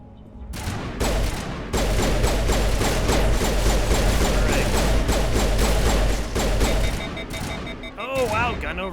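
Rapid sustained gunfire from a weapon in Mass Effect, a dense rattling burst of shots lasting several seconds before cutting off, followed by sharper electronic weapon sounds.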